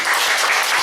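A church congregation claps together, a brief, dense burst of loud applause filling the room without pause.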